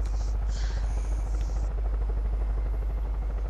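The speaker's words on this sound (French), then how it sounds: "Ah, il y a un hélico." A helicopter in the Far Cry 5 video game, a steady low rotor thrum with constant hum, moderately loud and unbroken, with no talk over it.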